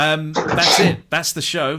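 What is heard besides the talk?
sneeze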